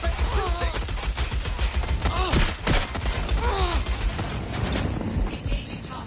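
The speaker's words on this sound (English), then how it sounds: "Suspect shooting." Gunfire from a suspect in the video game Watch Dogs Legion comes as sharp, dense bursts, with game voices and effects mixed over the shots.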